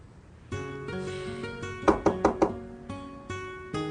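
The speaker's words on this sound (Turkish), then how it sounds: "Aç şu kapıyı Belgin lütfen." Knuckles knocking on a door, a quick burst of four firm raps over a sustained musical background, clear and close.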